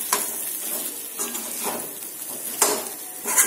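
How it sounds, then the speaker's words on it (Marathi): Tender stuffed brinjals are stirred through masala in a sizzling pan, with a steady fry crackle and scraping strokes that come back every second or so, close and fairly loud with no talking. "मसाल्यात फक्त याला व्यवस्थित एकजीव करून घ्यायचा।"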